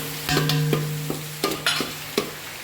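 Ground green chili paste sizzles in a pan for Thalassery chicken dum biryani, broken by several sharp scraping strokes of a spoon stirring, close and fairly loud with a low background hum.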